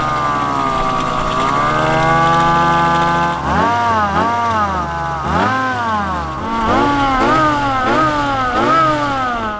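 A car fitted with a cheap aftermarket Amazon supercharger drives off, its engine droning loudly at first, then revving up and down in repeated rising and falling sweeps as it accelerates through gears, close and dominant with no talk.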